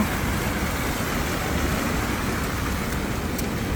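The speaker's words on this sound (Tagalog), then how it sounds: "malakas nga ang ulan" Heavy rain on a bad-weather morning gives a steady, dense hiss that stays even and unbroken throughout, at low to moderate level with no voices.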